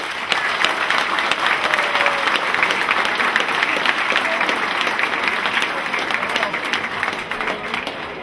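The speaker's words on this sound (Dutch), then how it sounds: "alsjeblieft een applaus" Sustained audience applause at an anniversary celebration of a sports club, a dense steady wash of many hands clapping that holds at full strength and eases slightly toward the end.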